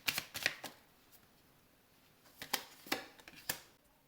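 Tarot cards, from a Keeper fin de siècle deck, shuffled close by in soft riffling bursts, a cluster at the start, a pause, then several quick flicks toward the end.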